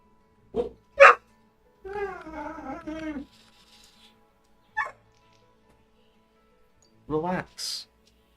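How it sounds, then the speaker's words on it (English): Dogs bark and whine in short irregular bursts, some yelping and some drawn-out whimpering calls, with quiet gaps between them, fairly close in an indoor room. "I don't know why my dogs are barking now."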